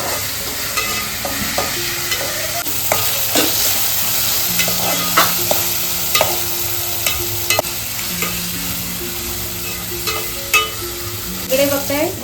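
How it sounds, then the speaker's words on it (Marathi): Tomato fries in a pan for a dried bombil (Bombay duck) recipe. A steady sizzle runs under repeated scraping strokes of a spoon stirring close by. "टोमॅटो घातल्याचं तर फ्राय होतो टोमॅटोचा"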